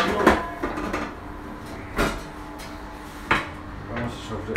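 A large frying pan handled in a home kitchen during cooking, giving several sharp metallic clanks and knocks spaced apart, close and moderately loud, with cutlery-like clatter between.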